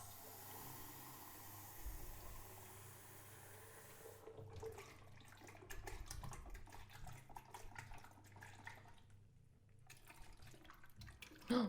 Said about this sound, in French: Plus vous rincez longtemps le film, et mieux ce sera pour le cafénol.